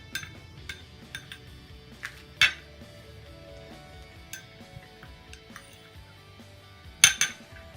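Spoon stirring rose petal powder and gram flour in a small bowl, light scattered clinks and taps against the bowl with a sharper cluster near the end, close and quiet.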